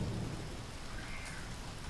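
Heavy rain falls in a steady, dense wash, with a low rumble of thunder swelling at the start and no one speaking.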